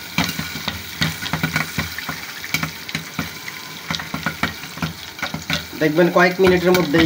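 Corn kernels popping into popcorn in a pan with a generous amount of oil: irregular sharp pops and crackles over a steady sizzle, growing denser toward the end, with a voice speaking over the cooking.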